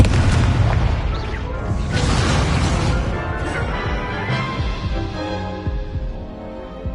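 An Incendio fire spell cast in a magic school video game bursts with a heavy whooshing boom up front, then a rumbling crackle that slowly fades away.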